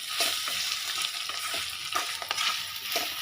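Boiled, mashed banana flower hits a hot pan with a sugar-and-salt seasoning, sizzling steadily while a spoon scrapes and stirs in repeated strokes, close and fairly loud.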